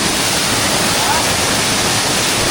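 A small river waterfall during the rainy season pours with a loud, steady, unbroken rush of fast-flowing water, close by and filling the whole scene without any other sound.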